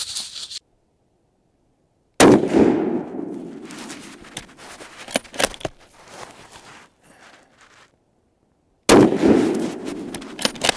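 A Black Creek Labs bolt-action TRX Bronco rifle fires two loud, sharp shots about seven seconds apart outdoors, each ringing out briefly, with clicking and clattering of handling in between.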